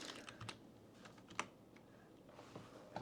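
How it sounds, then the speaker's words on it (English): Quiet, close keyboard typing as a node call sign is entered during setup of an MMDVM hotspot: a short run of soft, irregular key taps with one slightly sharper click, no talking. "let's go ahead and type in your call sign there"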